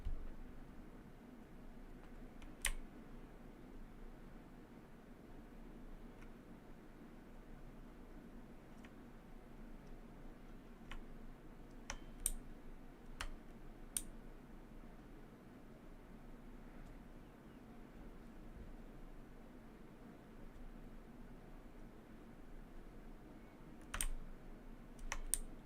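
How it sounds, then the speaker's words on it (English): Sparse, sharp keyboard clicks from a loud computer keyboard sit close to the microphone, scattered irregularly across a long stretch over a low steady hum, with no talking. "I don't really know why keyboards are loud, but it probably also doesn't help that my mouse is right next to the keys."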